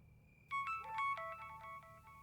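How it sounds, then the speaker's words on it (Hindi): A mobile phone rings at night with a melodic ringtone, a series of bright electronic tones pulsing in rhythm, fairly quiet and alone against a low background hum. "रात के इस टाइम किसका फोन आ रहा है?"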